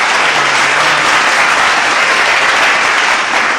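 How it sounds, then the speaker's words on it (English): Studio audience clapping for a special guest on a talk show, loud dense applause held steady and close for the whole stretch. "Clap it up. Let's clap it up."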